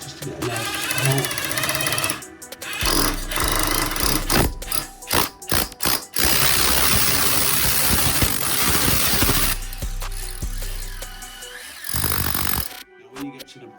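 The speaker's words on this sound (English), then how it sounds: "go through with a hammer drill first, just to get a nice hole." Hammer drill boring a hole through an exterior wall toward the brick for an outside tap, heard as loud bursts of harsh grinding and rattling that start and stop repeatedly, with a long sustained run in the middle.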